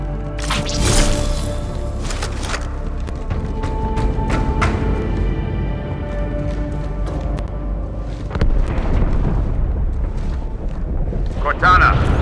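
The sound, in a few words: explosion inside the ship Athens in the video game Halo 2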